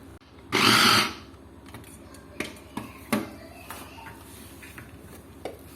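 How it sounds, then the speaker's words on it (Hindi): An electric kitchen chopper mashes cooked chicken in one short, loud whirring burst, followed by scattered light clicks and knocks of the bowl and lid. "मैं इसको चॉपर में कर रही हूँ"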